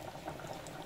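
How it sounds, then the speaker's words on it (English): A steady, dense sizzling and bubbling of cocoyam porridge ingredients frying in a pot, close and continuous with no pauses. "we're just gonna keep frying it until it's cooked"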